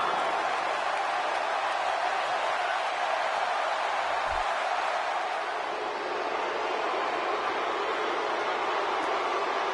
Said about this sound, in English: A raucous crowd on hand tonight for Money in the Bank.